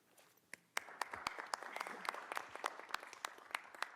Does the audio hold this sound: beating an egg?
no